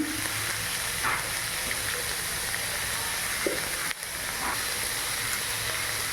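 Onion and peas crackle and hiss steadily in a pan for a breakfast semolina dish, with occasional soft scrapes of stirring and one brief dip in the sizzle midway.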